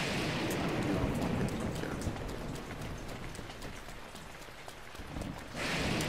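Steady rain falls in Zelda: Breath of the Wild, a dense, even hiss of drops that fades slightly midway and swells again near the end, with no talking.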